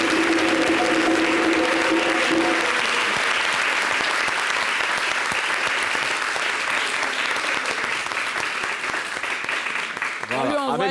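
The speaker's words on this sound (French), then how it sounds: "avec des applaudissements comme ça" A studio audience applauds in a dense, sustained wash of clapping, loud and continuous throughout, with a voice talking over it at the start and near the end.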